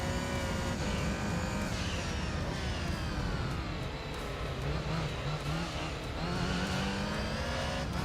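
A 900 horsepower Toyota Supra race car in Gran Turismo 3 holding a loud, continuous high engine whine that climbs and dips through gear changes and cornering, with tire squeal underneath.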